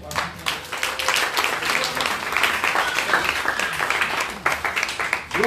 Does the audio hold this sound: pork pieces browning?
no